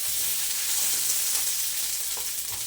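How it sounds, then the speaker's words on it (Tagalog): Okra sautéing in a pan, a continuous loud hiss and sizzle of frying with no talk. "Igisa ang okra"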